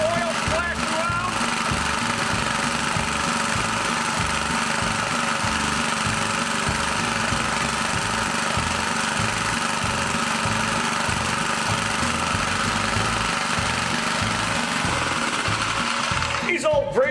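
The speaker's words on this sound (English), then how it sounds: "These old Briggs engines, man, you can't beat them." An old Briggs engine runs steadily and loudly for the whole stretch, its throbbing drone close to the microphone, with a brief change in tone right at the end.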